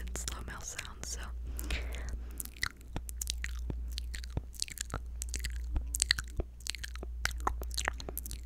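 Quick, close ASMR mouth sounds of wet clicks, smacks and tongue pops fire off rapidly over a steady low hum, with soft whispering mixed in.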